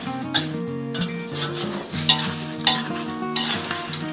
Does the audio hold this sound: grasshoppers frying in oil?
yes